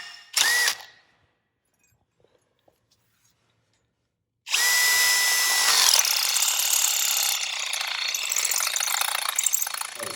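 A power drill boring a hole through a metal piece for a Jeep Wrangler JLU fuel tank, a brief whine, then a pause and a long loud steady drilling run with grinding, shifting pitch close up.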